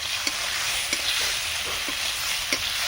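Spices with chopped tomato and ginger paste frying in a pan, a loud continuous sizzle close by, broken by regular soft knocks of stirring strokes, with no voices.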